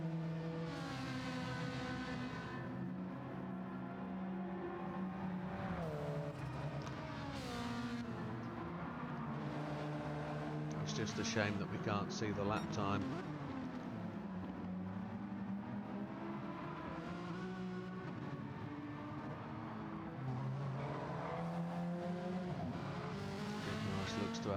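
Race cars lap a track in the Gran Turismo 7 video game, in a Gr4 league race at Lago Maggiore East End, with a steady high engine whine, shifting revs and brief tire squeal, under continuous commentary.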